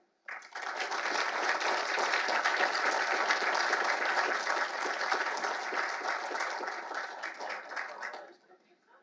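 An audience at a national security talk applauds to welcome Ambassador O'Brien, with steady, dense clapping that swells fast, holds for several seconds and then tapers off.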